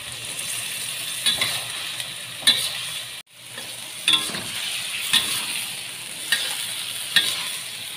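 Tempeh stir-fried with green chilies in a pan, giving a steady sizzle throughout with a few sharp utensil scrapes and clacks at regular intervals and a brief break near the middle.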